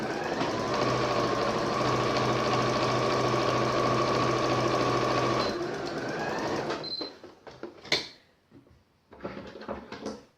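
A sewing machine stitches a fabric button-up wallet in a steady, loud, continuous run, then stops, leaving a few short clicks and handling knocks.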